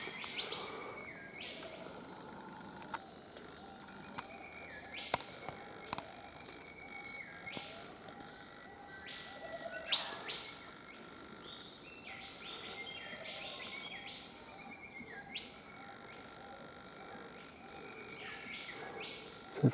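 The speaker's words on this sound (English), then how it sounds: "There's a whip bird in there." An eastern whipbird calls from the rainforest understory in Ravensbourne National Park, Queensland, sharp repeated whistles and cracks mixed with other birds and insects, moderately distant over a steady natural chorus.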